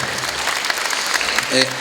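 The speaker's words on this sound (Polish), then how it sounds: "Bardzo brawa się należą Kacprowi" An audience at a Polish gathering applauds a young swimmer, a short burst of clapping under a faint voice, ending with a brief tonal sound.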